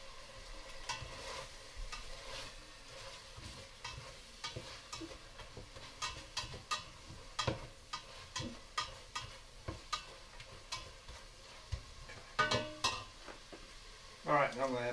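Food frying in a hot pan on a backpacking stove, a low steady sizzle punctuated by repeated clicks and scrapes of stirring, quiet and close, with a louder clatter near the end.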